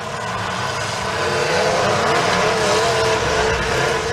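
Engines roar and rev continuously at a demolition derby, loud and close, with dense mechanical noise swelling slightly over the few seconds.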